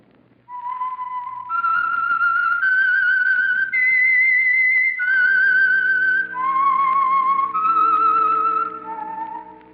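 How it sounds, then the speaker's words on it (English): A clear, melodic whistled tune plays alone as an old radio program signal, a short rising and falling phrase of sustained notes. "That whistle is your signal for the Signal Oil program"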